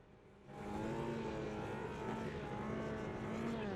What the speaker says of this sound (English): A few drivers trying to get some heat into those engines.